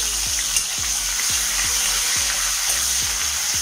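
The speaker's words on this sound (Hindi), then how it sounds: "सबसे पहले मैं ऑयल में दे दूंगी ये अनियन," Onions fry in hot oil with a constant bright sizzling hiss, punctuated by a regular series of soft stirring knocks, close and steady throughout.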